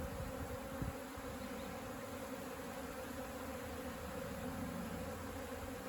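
Native honeybees buzz around a rescued hive in Mallorca, Spain, in a continuous close droning swarm that stays at a fairly even level, with no voices.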